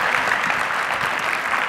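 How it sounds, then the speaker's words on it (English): Steady, dense applause from a festival crowd for a panel at a live conference event, holding at an even level throughout the short stretch. "Big round of applause for our panelists."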